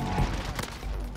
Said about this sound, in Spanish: ¿Quién me dispara misil?